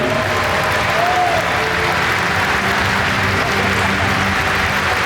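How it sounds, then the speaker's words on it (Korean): A large audience at a national party convention gives loud, sustained applause, a dense unbroken roar of clapping with faint crowd voices mixed in. "우리 뜨거운 박수를 보내드리도록 하겠습니다."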